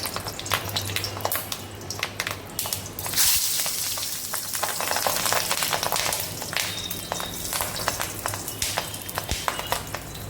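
Leaf-wrapped fish dropped into hot oil in a wok, giving a loud, dense, crackling sizzle that bursts up suddenly and keeps spitting and popping steadily.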